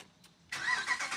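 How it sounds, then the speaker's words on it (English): A 2019 Dodge Ram pickup truck engine with eTorque turns over and catches, settling into a loud, steady rumbling idle after a brief quiet start. "Let's go ahead and start this thing up and see what happens."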